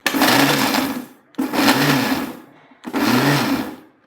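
A kitchen mixer grinder pulses three times while grinding sesame seeds and jaggery. Each loud, close whir lasts about a second and is followed by a brief pause.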